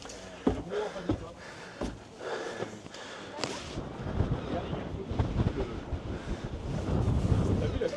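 Gusty wind buffets the microphone above the rooftops of Île de Ré, a rough, roaring rush that swells and grows louder toward the end, with no voices over it.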